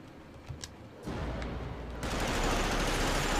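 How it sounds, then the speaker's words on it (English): A mounted machine gun in Medal of Honor Rising Sun opens up after a few scattered shots, building into a loud, continuous stream of rapid gunfire that grows denser and heavier toward the end. "Oh, there's a mounted machine gun."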